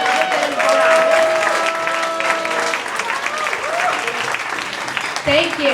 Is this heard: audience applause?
yes